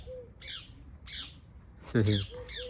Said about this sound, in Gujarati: બદામમાં કોયલ બોલે ક્યારેક ક્યારેક જ બોલે